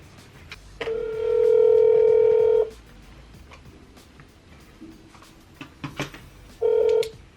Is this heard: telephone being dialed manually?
yes